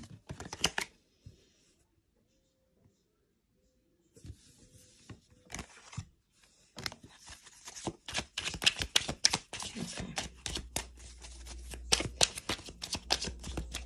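Rapid riffling bursts of playing cards being shuffled, close and crisp, starting with a brief shuffle, a pause, then repeated dense shuffling that grows busier.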